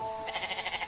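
Goat bleat sound effect, set in a story of a boy herding goats: one short, wavering bleat with a rapid pulsing tremble, heard close and alone for about a second.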